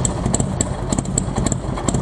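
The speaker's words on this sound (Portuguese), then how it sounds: "Ainda tem um somzinho de carbura. E não é carburada não, é injetado." A big fuel-injected motorcycle engine idles nearby with a loping, uneven beat of low-pitched pulses, running steadily and fairly loud for the whole stretch, with no one speaking over it.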